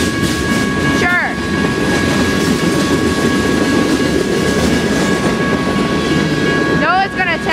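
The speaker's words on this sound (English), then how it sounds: "this is a really big train" A long freight train rolls past at close range, its loud continuous rumble and wheel clatter filling the whole stretch, with squealing metallic screeches near the start and end and brief voices mixed in.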